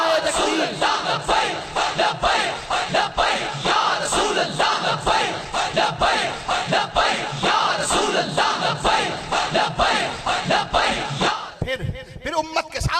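A large crowd roars a takbeer chant in response at a religious sermon gathering, loud massed shouting sustained for about eleven seconds before cutting off.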